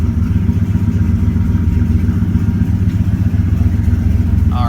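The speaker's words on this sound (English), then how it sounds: "the car is somewhat warmed up and idling" A 4.6 modular V8 car engine idling close by, warmed up, a steady low rumble with an even pulsing throb that holds constant throughout.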